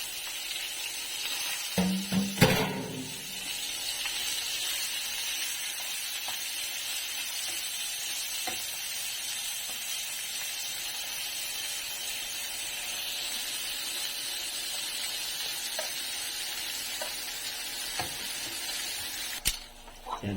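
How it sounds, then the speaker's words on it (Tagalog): White onion sautéing in pork fat in a pan: a steady, close sizzle throughout, with a few clatters of a utensil near the start and again at the end, and no talking. "Para sa sauteing ng ano. Yung sibuyas na puti."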